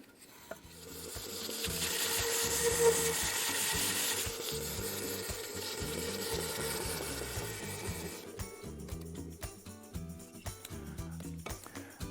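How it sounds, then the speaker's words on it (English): Sandpaper rubs steadily against wood spinning on a lathe, a continuous rasping whir over a low motor hum that thins out toward the end. "all you have to do is simply turn on the lathe and get sanding"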